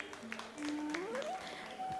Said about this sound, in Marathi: जोरदार टाळ्या लीला गाजरे मॅडमसाठी